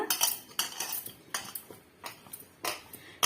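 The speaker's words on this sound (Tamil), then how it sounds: "அழுத்தம் கொடுத்து மிக்ஸ் பண்ணி கொடுத்துக்கலாங்க." A soaked snack dough gets mixed by pressing it in a bowl, producing a series of about six close, distinct clinks and scrapes of utensil against the bowl at an uneven pace, with no voices.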